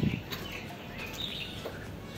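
Birds chirp and call from big leafy trees outdoors, a few short faint tweets over steady background hiss.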